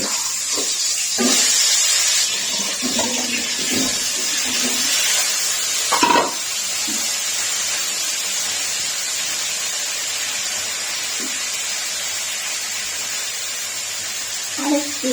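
Cauliflower frying in plenty of oil in a wok, a steady hiss punctuated by clinks and stirring knocks, with a voice talking over it at times.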